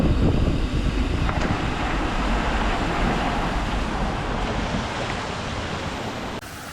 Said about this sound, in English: Apologies for the noise of the water